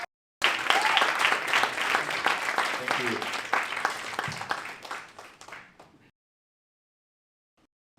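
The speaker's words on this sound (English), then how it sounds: "give them a big round of applause." An audience applauds presenters being called onto a stage at a Hiroshima showcase event, dense clapping that fades out after about six seconds, with a brief spoken thanks near the start.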